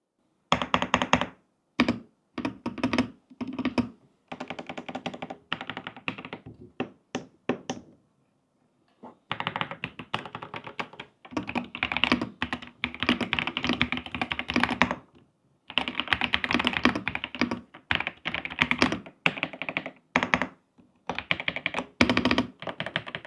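Someone types on a Royal Kludge wired keyboard fitted with Creamy switches, with bursts of crisp, rapid keystrokes separated by short pauses, close and clear with no talking.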